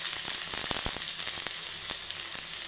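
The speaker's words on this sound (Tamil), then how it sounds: "நான் பெருசாக ஒரு வெங்காயம் அரைச்சி வச்சுருக்குறேன் அதை நான் ஃபுல்லாக அப்படியே சேர்த்துக்கிறேன்" Ground onion paste tipped into a hot pan for a banana flower and egg stir-fry sets off a loud, continuous hissing sizzle with scattered pops and crackles, and no talk.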